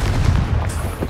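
A dull, rumbling explosion from a Confringo spell booms through a video game scene, dense and low with a rolling blast texture filling the whole brief moment.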